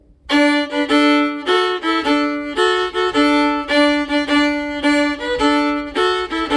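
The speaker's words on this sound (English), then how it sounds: "If we do a shuffle bow all the way through, it sounds like this." Lively fiddle playing of "Soldier's Joy" in a continuous shuffle bow pattern, quick repeated strokes with a bouncing rhythm and shifting notes, close and clear.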